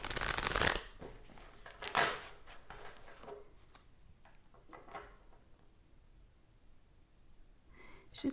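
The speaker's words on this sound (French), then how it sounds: "je vais tirer une carte" Tarot cards being shuffled and a card drawn, with a loud riffling burst at the start, another brief shuffle, then softer sliding and handling sounds, close and quiet.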